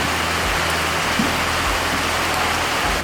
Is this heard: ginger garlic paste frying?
no